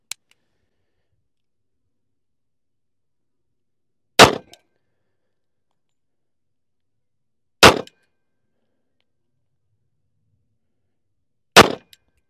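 Three sharp, loud shots from a Colt Defender 1911 .45 ACP pistol firing reloaded rounds ring out several seconds apart, each a single crack with a short tail, separated by near silence.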